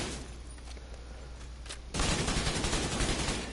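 Gunfire in the video game The Division, starting as faint scattered shots and then breaking into a loud, dense burst of sustained automatic fire partway through.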